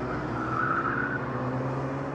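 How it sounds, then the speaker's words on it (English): An Audi TT fitted with a sports exhaust system gives a steady, droning exhaust note while driving, heard close and continuous with a humming tone underneath. "it's almost just like you're playing tunes with the exhaust"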